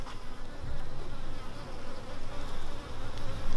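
Dense, continuous buzzing of many honey bees swarming close to the microphone around the hive, a steady humming drone with no pauses.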